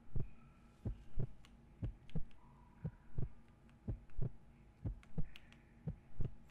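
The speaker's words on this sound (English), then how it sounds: "Oh, the heartbeat." Heartbeat effect in the Five Nights at Freddy's horror game, a steady low double thump repeating about once a second, close and prominent with a faint hum underneath.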